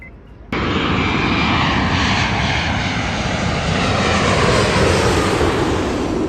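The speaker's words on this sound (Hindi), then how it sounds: "देखो ये ऑन टाइम निकल रही है फ्लाइट इसकी।" Twin-engine airplane taking off near a restaurant, its engines bursting in abruptly and then holding a loud, sustained roar that swells slightly as the aircraft accelerates, heard alone without voices.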